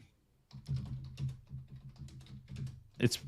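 Keystrokes on a computer keyboard during a ham radio Q&A session, appearing as brief clustered clicks in irregular bursts, fairly close, with a louder clack near the end and low background hum underneath.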